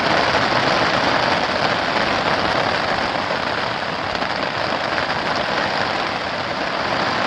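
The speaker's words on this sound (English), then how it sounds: "The rain has started." Steady rain falls at a Boundary Waters campsite, a dense, even hiss of drops pattering on surfaces that stays constant and fairly loud throughout, with no talking.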